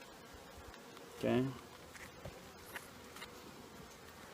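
Honey bees festooning at a hive, heavily coated in honey, give a short, close buzzing burst that swells and fades within about half a second, over quiet background hiss, with a brief spoken word.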